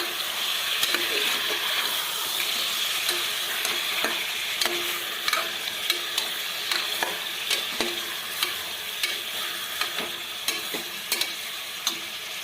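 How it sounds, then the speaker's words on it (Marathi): Chicken pieces sauté and sizzle in hot oil in a pressure cooker while a spoon stirs them, a continuous frying hiss broken by frequent sharp scraping clacks of the spoon against the metal pot. "चांगलं परतून घेऊ याच्यात"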